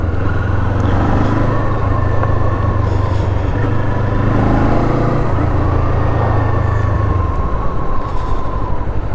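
A steady engine drone and road roar as a Kawasaki Eliminator motorcycle rides along, loud and continuous with wind noise and no speech.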